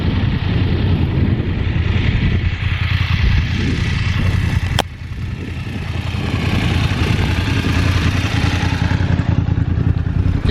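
A motorbike engine drones loud and close during a cold, breezy mountain ride in Norway, with dense rumbling wind buffeting throughout. A sharp click cuts in near the middle, and the noise briefly drops before rising again.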